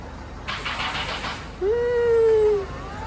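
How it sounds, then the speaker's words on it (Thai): A single cat gives one clear, drawn-out meow close by, following a stretch of broadband hiss and faint background noise, in a beauty salon. "มีแมวหน่อยตัวนึง"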